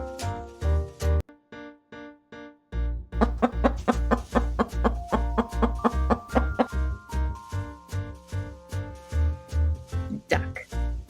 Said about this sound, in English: Chicken. I see a chicken.